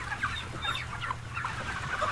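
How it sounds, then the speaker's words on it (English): Chickens clucking continuously on a crowded factory farm, many overlapping close and distant clucks over a steady low mechanical hum. "This chicken flaps her wings, trying desperately to stand up"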